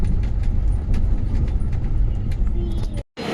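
A train running, heard from aboard or nearby as a steady low rumble with faint rhythmic clatter, fairly loud and continuous, ending in a brief silent cut.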